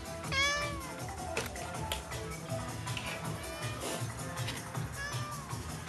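A cat meows repeatedly in rising, drawn-out calls over a busy, noisy background with some faint voices.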